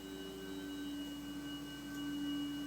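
Sustained spacey organ tones from a 1972 German folk-psych song hold steady, layered drones with a slight swell toward the end, no voices.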